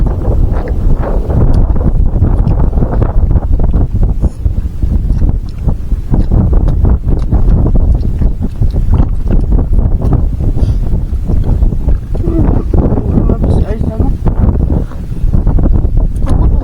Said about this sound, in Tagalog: Malakas yung hangin ngayon